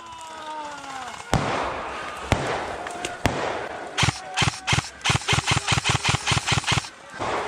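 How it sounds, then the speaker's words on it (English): Airsoft grenades burst during a MilSim game: a few sharp blasts are spaced apart, then a rapid crackling string of loud pops follows, near and punchy over outdoor ambience. "More grenades! More grenades!"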